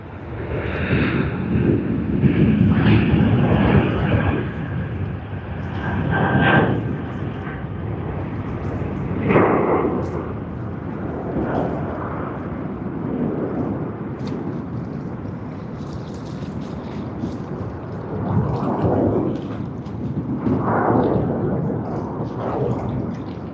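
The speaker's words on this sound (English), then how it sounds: "One of the first A380s taking off during the day after the night curfew." An Airbus A380 takes off at Sydney Airport in the morning, a loud, sustained jet engine roar that swells and fades in broad waves as it climbs away, with no voices.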